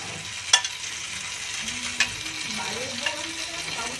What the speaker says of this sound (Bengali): বেগুনটা ভাজা হয়ে গেছে দুটো কাঁচা লঙ্কা দিয়ে দিলাম